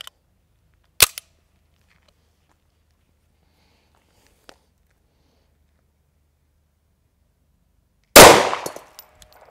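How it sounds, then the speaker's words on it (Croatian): Two sharp 9 mm pistol shots from a CZ 99 fired at a helmet: one crack early on, a faint tick midway, then a louder, close blast near the end that rings out briefly. "Da probamo sada i 9 mm iz CZA 99."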